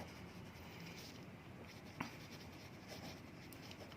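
Pen or pencil writing notes during a physics lesson, a soft continuous scratching on paper with one faint tap, quiet against a hissy room background and no talk.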